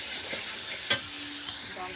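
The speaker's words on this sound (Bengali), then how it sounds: "জল দিয়ে মশলাটাকে আবার একটু কষিয়ে নিচ্ছি, তেল ছাড়া পর্যন্ত অপেক্ষা করব" Spice paste simmers with a splash of water in a pan for ghugni, giving a faint, low sizzle. Two brief stirring clicks stand out against it, and nobody talks.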